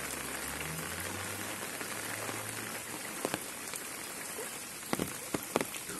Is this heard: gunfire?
no